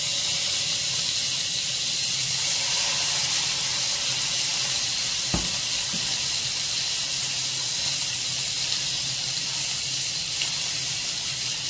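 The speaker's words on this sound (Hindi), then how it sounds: "जब ये तेल गरम होगा फिर मैं इसमें स्टिक्स डालूंगी।" Shish tawook chicken sticks sizzle steadily in hot oil, a loud continuous frying hiss close by with one brief sharp crackle partway through.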